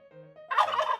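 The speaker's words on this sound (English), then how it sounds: "Turkey. Turkey. Turkey." A turkey gobbles once, a loud rapid warbling burst that follows a soft lead-in, heard alone and close with a steady background tone beneath.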